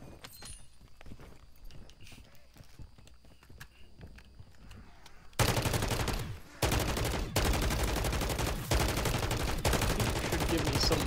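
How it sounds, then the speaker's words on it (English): A purple pack-a-punched shotgun fires in Call of Duty Modern Warfare Zombies; after a quiet stretch of faint footsteps, loud, heavy blasts arrive in quick succession, close and dominant. "Shotgun."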